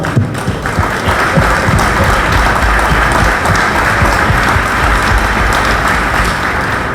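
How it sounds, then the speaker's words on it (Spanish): An audience at an international artificial intelligence forum hosted by an industrial association in Paraguay applauds in a dense, continuous wash of clapping that stays loud and even throughout. "Damos un aplauso al que nos trae el mundo al Paraguay."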